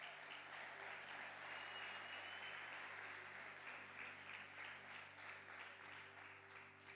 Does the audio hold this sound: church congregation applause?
yes